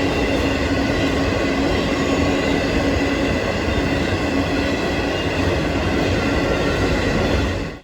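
An iron ore freight train on the CN Iron Range rolls past close by, with a steady, loud roar of wheels and cars on the rails and no break for the whole span.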